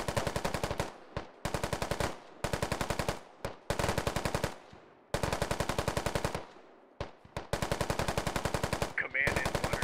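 Machine guns fire in the video game Squad in repeated loud, rapid bursts broken by short pauses, close and aggressive throughout.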